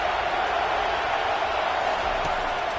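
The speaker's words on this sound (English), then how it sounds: "This crowd knows they have to bring it in big moments" Stadium crowd at a football game during a tense third-down moment, a steady, loud wall of roaring and cheering voices that holds level throughout with no breaks.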